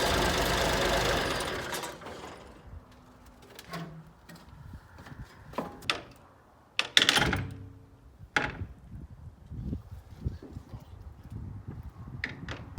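An old Massey Ferguson 1105 tractor engine runs loudly for a couple of seconds, then cuts off, leaving scattered clanks, knocks and a sharp metallic rap in the quiet.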